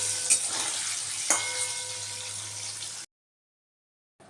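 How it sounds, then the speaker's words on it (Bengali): Paneer sizzles in hot oil in a pan in a home kitchen, a steady bright frying hiss with a couple of brief louder spatters, then cuts to silence before a brief return near the end. "তাতে একটু পনির ভাজা হচ্ছে"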